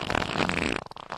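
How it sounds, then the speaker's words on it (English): A wet fart sound effect, a loud sputtering burst lasting most of a second, then trailing off into a few fainter, ragged pops. "Bro, that fart sounded wet."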